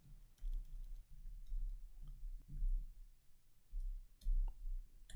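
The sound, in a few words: typing code on a computer keyboard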